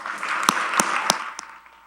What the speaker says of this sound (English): Please join me in welcoming Professor Tedlow with a round of applause